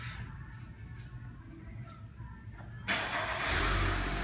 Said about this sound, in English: Remote start, pretty nice to have.